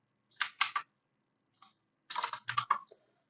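Code is typed on a computer keyboard in two short bursts of close, crisp key clicks, about three quick strokes, a pause with one faint tap, then a run of five or six more.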